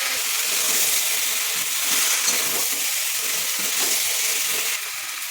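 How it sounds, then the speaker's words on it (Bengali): Cauliflower and egg frying in very little oil give a steady close sizzle and hiss, with faint scraping stirs underneath and a slight drop near the end. "দেখুন, রান্নাটা খুবই অল্প তেলে করছি"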